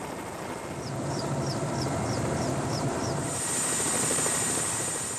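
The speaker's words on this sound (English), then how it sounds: "The helicopter can't actually settle on the ground because it's too marshy" A helicopter engine and rotors drone steadily and loudly nearby as it hovers over marshy ground, with a faint repeating chirp, then a higher whine rises near the end.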